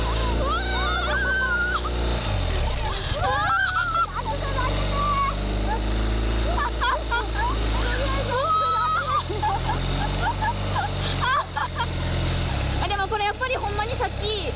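A Ural CT sidecar motorcycle with one-wheel drive is ridden, its engine a steady low rumble that rises and falls with the throttle under lively, excited talk from the riders.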